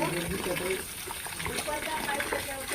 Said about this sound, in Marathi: पाणी फुल चालू केलं